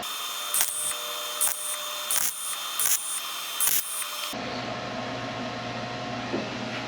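Five short bursts of buzzing, crackling tack welding on sheet metal for a car trunk floor, each a second or so apart, followed by a quieter humming stretch afterward.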